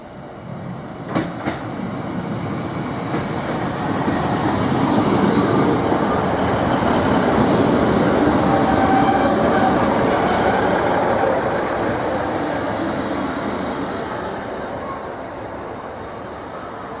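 A Greater Anglia Class 156 diesel multiple unit passes close by, a sustained broad rumble of engine and wheels that swells from about four seconds, holds steady, then fades slightly toward the end, with a couple of sharp clicks early on.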